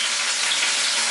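Lids sizzling and crackling on a hot pan in a home kitchen, a steady, close, loud hiss of frying that continues without a break.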